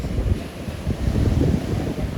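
Strong wind buffets the microphone over rolling ocean surf on a beach at night on Sanibel, a loud continuous roar with surging waves and no voices.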